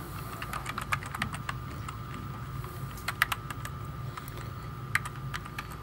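Fingers typing recipient names into an email on a computer keyboard, quick irregular bursts of close, crisp key clicks with brief pauses, over a faint steady hum.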